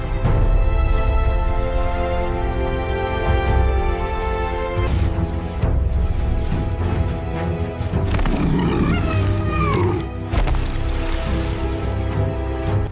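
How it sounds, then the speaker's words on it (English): A hippo roars and bellows during a lion attack in Tanzanian wilderness, deep harmonic calls rising and falling over a continuous wild backdrop, loud and close. "The hippo spun around, roaring, trying to use its tusks to wipe out its attackers."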